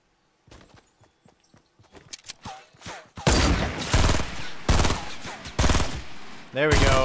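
Rapid bursts of automatic gunfire in a Fortnite solo match, loud and repeated in heavy volleys after a stretch of lighter footsteps and clatter, with a voice talking briefly near the end.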